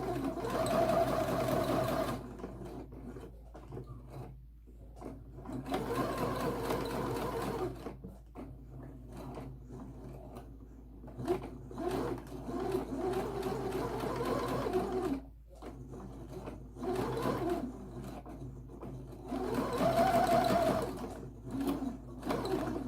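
A sewing machine bastes a seam for a suit, running in several stop-and-start bursts of steady, moderately loud stitching with brief quiet gaps between runs.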